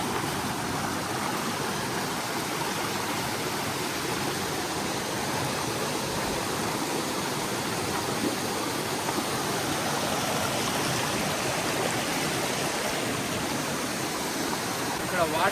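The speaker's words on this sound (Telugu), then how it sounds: "ఈ వాటర్ ఫాల్" A large waterfall hidden in a forest valley roars with a constant, dense rush of falling water, loud and unbroken throughout.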